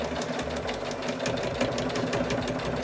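A sewing machine runs a quarter-inch seam with a back stitch, giving a fast, steady mechanical clatter of needle strokes at close range with no talking.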